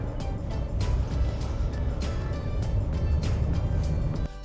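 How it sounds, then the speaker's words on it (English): A Zeekr 9X PHEV SUV with a 2.0T engine drives through an off-road course, giving a low, continuous rumble with repeated knocks and bumps from the terrain. "now we're driving the Zeekr 9X through an off-road course"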